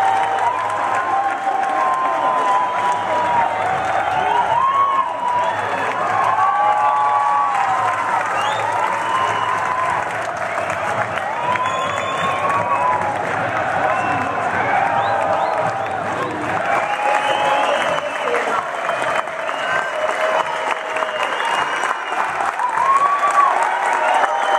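A football crowd at a Guarani match roars with sustained applause and cheering after a goal, a dense, loud wash of clapping and voices holding steady throughout.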